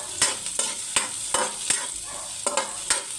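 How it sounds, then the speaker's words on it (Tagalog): Ginger and garlic frying in a pan, stirred repeatedly: a steady sizzle is broken by regular scraping strokes about every half second, close and fairly quiet, with no voices. "ilagay ko na po yung luya saka yung bawang"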